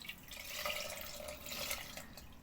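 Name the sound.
pouring a little water into cooking pot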